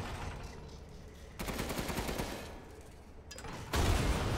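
Sustained automatic gunfire from a machine gun in the video game Resident Evil Village, a dense crackling stream of rapid shots with a brief lull before a louder, heavier burst at the end.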